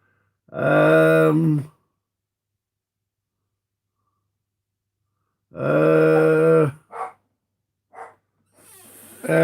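A dog barks and howls in a few long, drawn-out bursts separated by silence, followed by a couple of short yelps, fairly close and loud.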